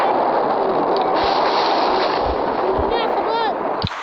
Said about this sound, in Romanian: Oh, câte artificii.